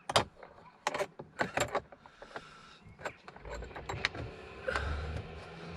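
Fishing a missing-screw's partner, a T30 Torx screw, out of the driver's door interior panel of a 2009 Mercedes-Benz W204 C-Class: irregular close metallic clicks, taps and rattles with scraping between, no talking.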